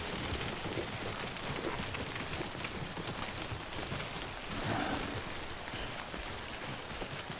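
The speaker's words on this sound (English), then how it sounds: "Now it's raining," Steady rain in the Death Stranding video game, a dense, even hiss of falling water that stays at a constant level throughout, with no voices.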